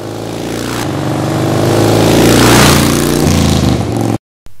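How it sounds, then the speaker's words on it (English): A motorcycle with a loud exhaust revs up and back down inside a tunnel, its roar echoing and swelling, then cuts off abruptly. "a chance to play silly boy with my noisy exhaust in the tunnel"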